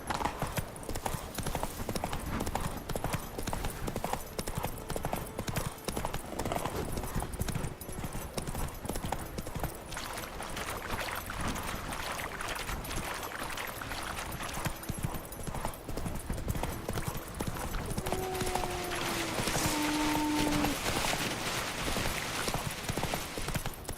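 Roach, the horse in The Witcher 3, clops along at a brisk, even pace of hoofbeats, with soft game ambience and a few brief tonal sounds near the end.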